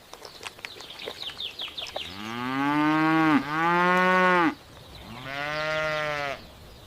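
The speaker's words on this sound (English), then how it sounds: "This is a cow." A cow on a farm moos three times in long, loud, close calls, each a drawn-out low bellow, following a few seconds of quieter rustling and clatter.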